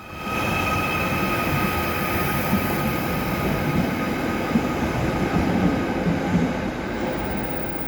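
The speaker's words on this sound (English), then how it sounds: "Wirral-bound trains using the original Wirral-bound platform." Loud, continuous rumble of an underground Merseyrail train moving through James Street station, with a sustained roar and faint tonal whine, no voices.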